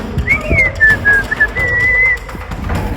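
A person whistles a short wavering tune in a tunnel, the melody clear and fairly loud over a low rumble of background noise.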